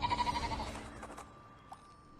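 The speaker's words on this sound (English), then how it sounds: "Wait, sheep." A sheep bleats in the strategy game Becoming Saint with a wavering, buzzy call for about half a second, followed by faint game interface tones.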